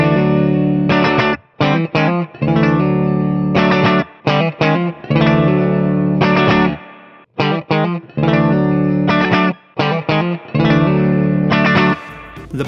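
Distorted electric guitar through a Two Rock Studio Signature amp plays choppy chords and riffs with short gaps, an effects wash and reverb tail lingering, loud and close.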